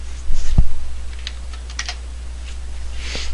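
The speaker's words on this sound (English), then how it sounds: "we're going to type in reg edit" A computer keyboard clicks out a short word of quick keystrokes, close and crisp, with a thump near the start and a low steady hum underneath.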